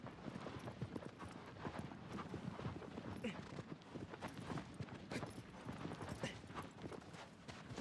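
Steady, rhythmic clip-clop of a horse's hooves galloping in the video game Shadow of the Colossus, moderately quiet and continuous throughout.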